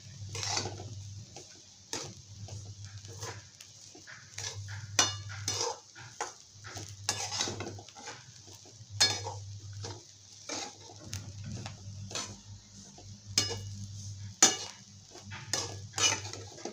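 Leftover chapati chivda being stirred and roasted in a pan, with a steady run of spoon scrapes and taps against the metal over a low background hum, clear and close with no talk.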